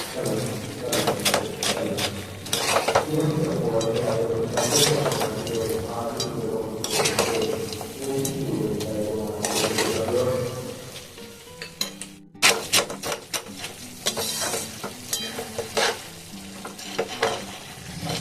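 White boondi made from dal boils in sugar syrup in a pan, giving a steady close bubbling sizzle with scraping stirs and light utensil clinks, a brief drop near the middle, then more bubbling and stirring.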